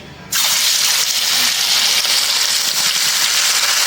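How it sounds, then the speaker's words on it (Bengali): Rohu fish dropped into hot oil in a kadai bursts into a sudden loud sizzle. The hiss stays steady and dense for several seconds, with no voices. "তেলটা গরম হয়ে গেছে এখন মাছ দিয়ে দিই"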